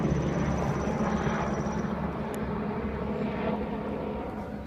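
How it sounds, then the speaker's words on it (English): Eight Black Hawk helicopters passing overhead produce a steady, low rumbling engine drone that stays loud and continuous, with no voices heard. "Like 8 Blackhawk helicopters just went over."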